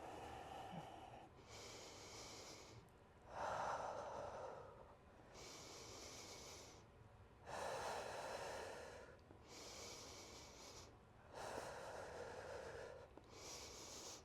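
Slow, deep yoga breaths held through an Ashtanga backbend pose, with hands over the heart. About five long, even breath cycles sound close and airy, separated by short quiet gaps.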